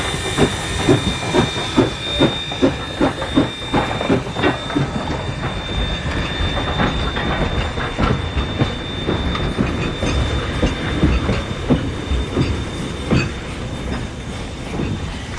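Steam locomotive 97 chugs forward with rhythmic exhaust puffs, hissing steam and a steady high whistle-like tone, fairly close and continuous.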